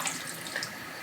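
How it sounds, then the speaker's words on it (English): Water poured into a pot of warming home-canned Boston baked beans, a steady close trickle and splash running throughout without voices. "So I'm just working in that water as I'm adding it."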